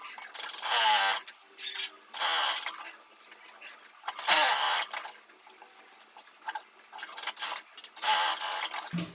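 Sewing machine stitching a quilted, lined child's jacket, running in several distinct bursts of steady whirring with short pauses between them, fairly close and clear.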